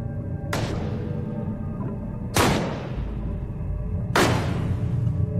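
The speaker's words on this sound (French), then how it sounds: "Un échange de tirs s'ensuit, mais Johnson reste intraitable." Three sharp, booming shots spaced about two seconds apart, each with a long ringing decay, over a low rumbling background.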